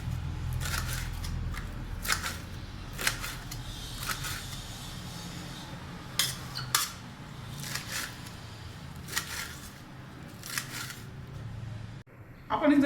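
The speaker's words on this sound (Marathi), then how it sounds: "अशा पद्धतीने संपूर्ण जुडी कापून घ्यायची." A bundle of fenugreek leaves is chopped finely on a kitchen board for parathas. Sharp cutting strikes come at irregular intervals under a low, steady background hum, with a person talking nearby.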